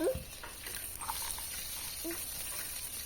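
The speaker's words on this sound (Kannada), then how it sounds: "ಎಣ್ಣೆ ಚೆನ್ನಾಗಿ ಬಿಸಿ ಆದಮೇಲೆ ಅದಕ್ಕೆ ಸ್ವಲ್ಪ ಮೆಂತ್ಯ ಕಾಳನ್ನು ಸೇರಿಸ್ತಾ ಇದ್ದೇನೆ" Fenugreek seeds frying in hot oil for a fish curry, a steady soft sizzle and crackle running throughout, with brief scrape or stir sounds at moments.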